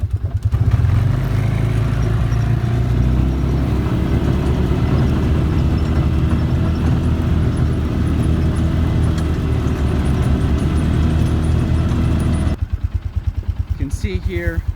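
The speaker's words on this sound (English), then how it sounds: "Put it in four-wheel drive, put it in gear." A Polaris Ranger UTV driving in four-wheel drive, its engine a loud, steady, close drone that holds throughout and then dips near the end as the clattering rumble continues, with a voice heard over it.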